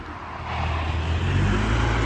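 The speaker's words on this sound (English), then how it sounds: "Traffic is so loud." Loud road traffic, with vehicles rumbling and passing close by in a steady, swelling roar that builds over two seconds, no voices over it.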